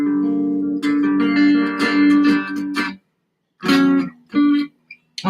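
Guitar plays inside chords up close, with sustained and ringing voicings at first, then a pause and a few short plucked chords.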